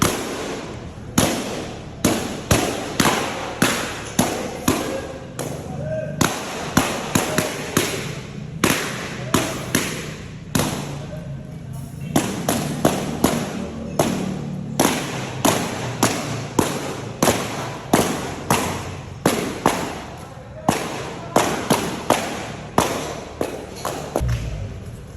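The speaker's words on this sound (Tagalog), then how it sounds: "Putok-putok na tayo sa lobo." Balloons popping one after another in sharp, loud bangs, dozens of them in quick irregular bursts throughout, close to the microphone and with no talk over them.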